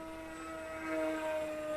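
A Volantex Ranger G2 RC sport glider with a 1.2 meter wingspan passes overhead, its electric motor and propeller giving a steady whine that swells briefly as it flies by.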